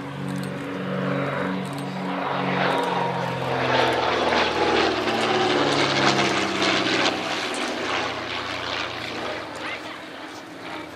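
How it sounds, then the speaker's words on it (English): A de Havilland DH88 Comet racing aircraft makes a fast display pass at Old Warden, its piston engines droning steadily with shifting pitch as it sweeps past, loud and sustained, with a voice commentating over it. "a good opportunity here as the Comet comes in for another"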